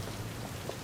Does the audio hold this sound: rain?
yes